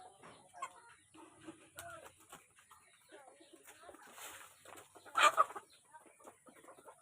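Native chickens cluck softly and steadily at feeding time, with scattered nearby cheeps and a brief louder flurry of calls midway, little to no talk.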